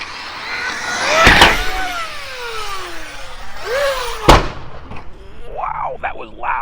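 An Arrma Mojave RC car launches with a loud crack and thump as its small motor whines and revs, followed by another sharp landing impact, with a high electric whine rising and falling afterward.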